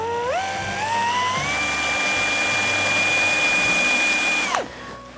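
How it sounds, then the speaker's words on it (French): A Metabo BS12BL drill-driver on low speed drills a 7 mm hole in thin metal, giving a steady, close, high whine that climbs in pitch at the start, holds, then stops abruptly. "vitesse 1 pour pas aller trop vite, bague de couple en position perçage et j'attaque maintenant mon perçage tranquillement"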